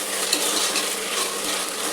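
Fava beans frying with ginger garlic paste in a pan, a dense continuous sizzle with soft scraping stir strokes, close and fairly loud.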